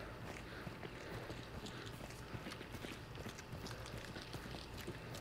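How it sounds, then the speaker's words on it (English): Horse hooves clip-clop in the game Hunt: Showdown, a steady busy patter of hoofbeats and footfalls at moderate level over continuous ambient noise, with no talk. "Got a horse just outside the door."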